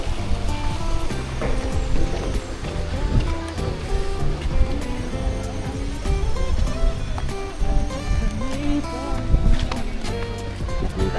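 Water rushes at Daranak Falls in Tanay, Rizal, a loud, dense, continuous roar filling the scene, with some faint background voices beneath it.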